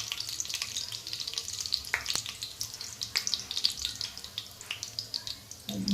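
Cumin seeds crackling in melted ghee, a close, bright sizzle full of rapid pops and spits that rises in intensity over a few seconds.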